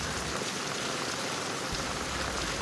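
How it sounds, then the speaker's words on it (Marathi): Steady, continuous rain pours down at Tamhini Ghat, a dense, even hiss of drops with no letup, filling the whole scene without voices. "ताम्हिणी घाटामध्ये कंटिन्यूस पाऊस पडतच असतो"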